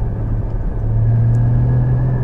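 Steady low engine drone from a mid-engined Porsche Cayman 981 driven on the road, a sustained rumble with a constant pitch and no voices.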